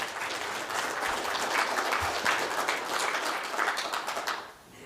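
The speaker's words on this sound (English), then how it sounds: "So a big round of applause to the product support team." Sustained applause from an audience at a dealer conference, a steady wash of many hands clapping at fairly even loudness for several seconds before thinning out at the end.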